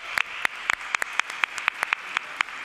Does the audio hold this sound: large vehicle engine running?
no